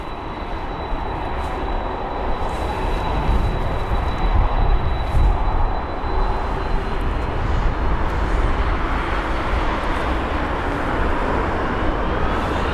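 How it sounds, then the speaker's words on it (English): A Delta Boeing 767-400ER on runway 27 right at Heathrow gives a sustained, broad jet roar that holds steady and swells slightly in the distance, with a faint high engine whine over it. "And we have the Delta 767 on the runway right now."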